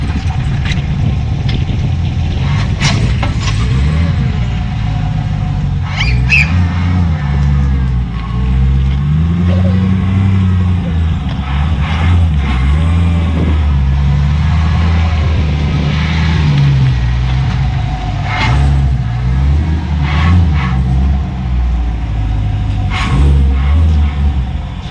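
A BMW E24 fitted with a 455hp V8 idles and reverses, giving a loud, steady low burble with wavering pitch and brief blips of revving, close by and with no talk.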